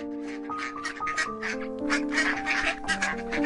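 Several ducklings quack and peep in a steady overlapping chorus, with sustained tonal sounds running underneath throughout.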